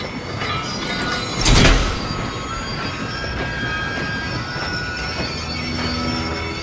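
A train in the video game Medal of Honor: Above and Beyond rolls along nearby with a steady metallic rumble and clatter. A loud burst of wheel screech and clank comes early, then the running noise continues.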